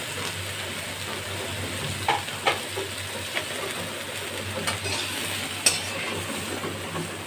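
Green mango pieces fry in a pan with salt, turmeric and chili powder: a low, steady sizzle broken by a few sharp clinks and scrapes of stirring, and no talking.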